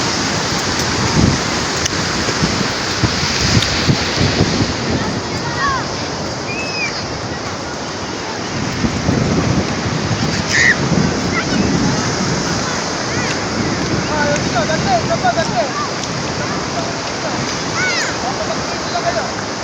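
Sea waves wash onto a beach at Kipis, a steady roar of surf with swelling rushes under wind and microphone buffeting, while people talk in the background.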